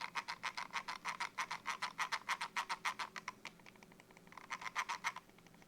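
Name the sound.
computer mouse scroll wheel clicking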